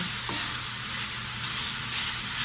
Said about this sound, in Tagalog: Halu-haluin lang ito hanggang sa mag-brown, hanggang sa magmantika.